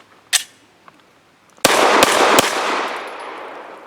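A Remington RP9 9mm pistol fires Hornady Critical Defense Light 100-grain rounds in a quick string of three sharp, loud shots with ringing decay, preceded by a fainter lone crack, no talking.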